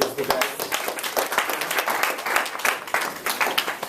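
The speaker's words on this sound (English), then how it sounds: "Round of applause for Ryan" Audience applause at a club's general meeting, a dense steady wash of many hands clapping for several seconds, fairly close and loud, with faint voices mixed in.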